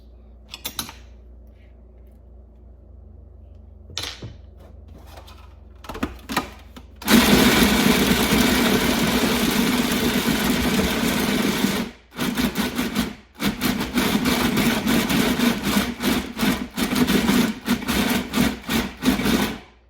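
A food processor pulses brownie batter studded with small chocolate chips, starting with a few short bursts, then a long loud grinding run of about five seconds, followed by a series of quick choppy pulses.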